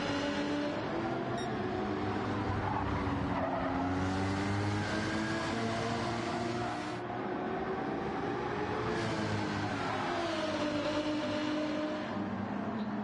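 Porsche Cayman race car engines hum and whine steadily during a Gran Turismo 7 race, with pitch rising and falling through gear changes and a constant, fairly quiet drone with no talking.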